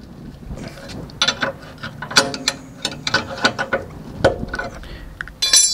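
A wrench tightens the coilover lock ring on a Lancer Evo X, giving close, loud metallic clanks and ratcheting knocks in irregular bursts with short gaps between.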